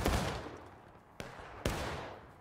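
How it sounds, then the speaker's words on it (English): Rifle volley fire from a Civil War video game cracks out as three separate sharp shots, each with a long decaying echo, the first loudest and the later two spaced about half a second apart. "keep up independent fire"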